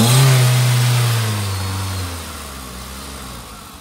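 A 2011/12 Volkswagen Vento 1.6 petrol engine, bonnet open, is revved once on the accelerator; the engine note rises sharply and then winds down steadily toward a smooth, quiet idle. The sound is close and clear, with no talking.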